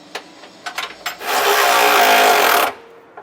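A short power-tool whir of about a second and a half follows a few light clicks and taps while a 3/4 inch bolt and nut are tightened on a Hellwig front anti-sway bar on a 2014 Tiffin Allegro motorhome. The tool runs loud and close.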